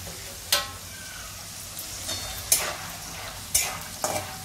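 Peanuts roast in salted oil in a pan with a steady sizzle, broken by several sharp stirring scrapes at irregular intervals.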